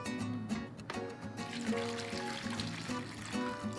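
Vinegar poured into a pork marinade for cochinita pibil with salt, cinnamon and orange, a steady close liquid stream trickling and splashing for several seconds without talk.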